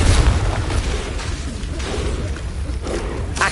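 A Confringo spell explosion in Hogwarts Legacy on PS5, a loud sustained booming blast with rumbling roar that stays dense throughout, with no speech.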